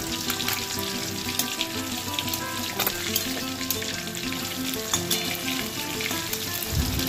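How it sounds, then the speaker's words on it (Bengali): Rohu fish pieces fry in hot oil in a wok and are turned over partway. A dense, continuous sizzle runs steadily throughout, with a faint tonal hum underneath and no talking. "মাছের এপিঠগুলো ভাজা হয়ে গেছে, ওপিঠটা উল্টে দিচ্ছি।"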